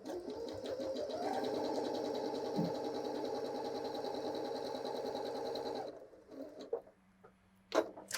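A Janome 6700P sewing machine runs fabric through a quarter-inch seam with a steady, fast mechanical whir for about six seconds, then stops, leaving a few quiet clicks and handling sounds.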